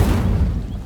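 An Incendio fire spell cast in Hogwarts Legacy bursts out as a single short, low whooshing boom, close and fairly loud, fading quickly.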